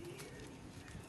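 Pigeons coo softly in a brief, faint snippet heard over steady background noise, with one or two low calls coming through.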